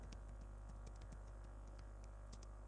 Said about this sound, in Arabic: تكتب على الكيبورد